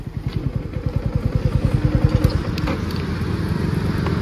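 Yamaha R15 V4 motorcycle on a ride alongside a KTM Duke 200, engine pulsing with a rapid steady rhythm close by, loud and continuous, then settling into a rougher sustained drone with no talk.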